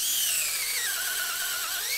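A power drill bores a hole into a maple tree for tapping, a loud, continuous high whine whose pitch dips slightly and then rises before cutting off abruptly, heard alone.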